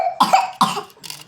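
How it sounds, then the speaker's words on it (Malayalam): A child coughs three times in quick succession, close and fairly loud, each short harsh burst separated by brief silence. "ചുമച്ചതാ"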